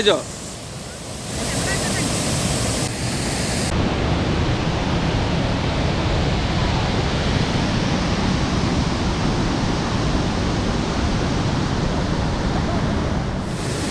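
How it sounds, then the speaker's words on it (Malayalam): Meenmutti waterfall at Neyyar rushes in a dense, continuous roar of falling water, loud and close, holding steady without a break. "അതിമനോഹരമായ സ്ഥലം മീൻമുട്ടി വെള്ളച്ചാട്ടം"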